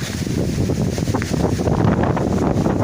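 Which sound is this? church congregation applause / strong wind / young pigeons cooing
strong wind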